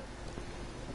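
Rain falls inside a ruined building in Fallout 4, a soft, continuous hiss of drops that stays faint and even throughout the short moment.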